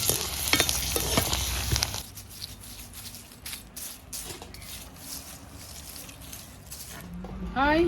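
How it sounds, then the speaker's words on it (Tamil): Mushrooms sizzle and crackle in hot oil throughout, with scraping stirring noises near the start and faint sounds of a person moving about. "அடுத்து வந்து மஷ்ரூம் வந்து பொரிக்கலாம்."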